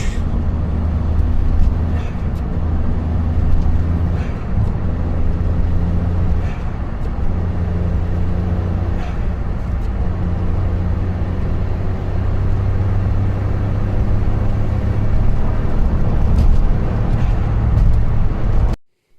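A 1999 Suzuki Alto Works fitted with a custom air intake drives steadily, its engine droning loud and close with a constant low rumble and road noise throughout, ending abruptly.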